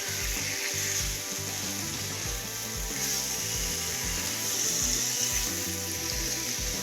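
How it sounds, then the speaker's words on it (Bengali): Potatoes and green tomatoes stirred with spices in a frying pan make a continuous sizzle with repeated spatula scrapes and knocks, close by and with no talking. "মশলার সাথে কিন্তু আলুর সাথে ভালোভাবে টমেটোগুলোকে মিক্সড করে নিচ্ছি"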